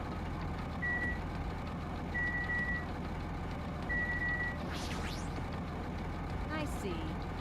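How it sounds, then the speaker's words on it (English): Reversing beeps sound at a steady interval over the engine of a truck at a factory in the Danganronpa 2 video game, with a constant low rumble beneath and a voice speaking partway through. "I was wondering where that sound was coming from, but it sounds like it was the engine."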